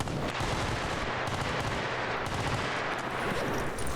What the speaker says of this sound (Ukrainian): Тільки но розпрощалися, як почалися постріли.